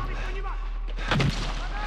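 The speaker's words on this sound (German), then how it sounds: "Oh, Granate." Grenade blast in the Medal of Honor: Warfighter shooter, a single short booming burst amid continuous game noise and gunfire, with a player's voice talking.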